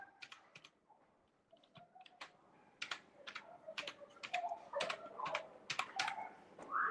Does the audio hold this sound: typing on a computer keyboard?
yes